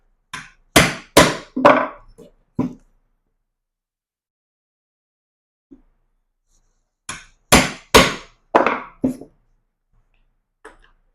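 Two quick bursts of sharp metallic hammer strikes on a center punch into metal, four or five blows each, separated by a quiet pause, close and loud.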